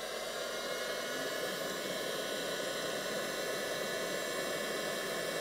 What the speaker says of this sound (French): On entend, il y a la ventilation de la batterie qui s'est mise en route.